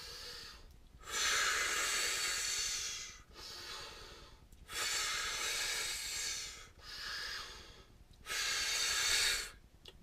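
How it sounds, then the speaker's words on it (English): Three long, forceful breathing bursts, each about a second or more, separated by short pauses, close and loud and with no talk, practised as a rapid hyperventilating singing warm-up. "I'm going to hyperventilate. I'm going to take 3 breaths."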